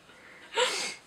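A single sneeze bursts out about halfway through, fairly close and moderately loud, rising from quiet room noise and tailing off with a breathy trail.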